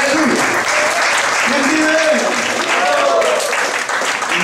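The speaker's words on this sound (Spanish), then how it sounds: "Dale un poquito de palmas al Señor." A church congregation claps hands steadily during a service, a dense, loud wash of applause with voices calling out over it throughout.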